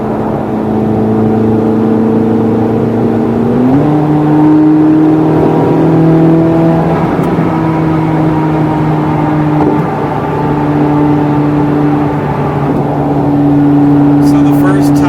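A Corvette C8 Z06 engine revs loud and close from inside the cabin during a ride, its pitch rising and stepping up through gears with a steady droning note throughout.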